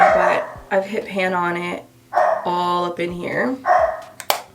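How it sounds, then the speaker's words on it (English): A dog barks and yips indoors in short bursts, mixed in with someone talking close by. "Excuse my dog, he's rude."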